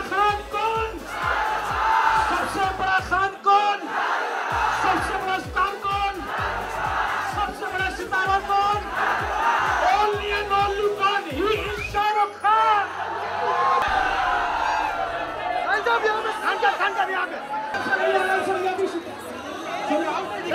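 Large crowd of fans outside the Gaiety Galaxy cinema, loud continuous chatter with shouts and whoops rising over the din, a close voice talking through it and the crowd noise dipping partway through.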